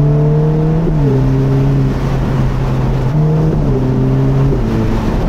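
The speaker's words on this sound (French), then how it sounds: "Vous entendez l'échappement quand même?" A Ferrari Roma Spider's twin-turbo V8 exhaust roars as it accelerates through gears, the engine pitch climbing and dropping at each shift, loud and steady.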